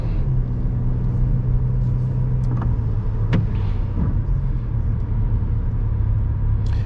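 A car with an automatic transmission pulls through a left turn onto a one-way street, its engine rumbling in a steady, loud drone with faint road noise throughout.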